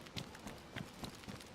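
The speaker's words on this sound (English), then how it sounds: "I heard a footstep." Soft, evenly spaced footsteps in the survival video game DayZ on the Chernarus map, a faint rhythmic series of light thuds with no talking.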